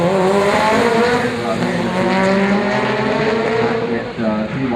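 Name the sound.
drag racing car launching and spinning its tires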